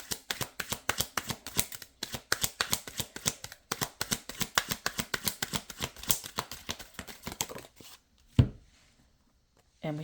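Tarot cards are shuffled in a rapid run of crisp riffling flutters and slaps, pausing briefly, then a single sharp tap as one card is drawn, followed by near silence.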